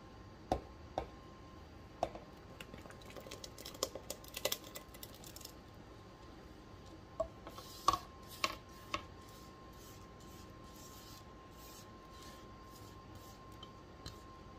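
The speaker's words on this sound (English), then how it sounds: "All right, let's give this a whisk together." Hand whisking of wet ingredients into dry for zucchini bread batter in a mixing bowl, heard as faint, irregular clicks and taps of the whisk against the bowl, scattered across a quiet background with no talk.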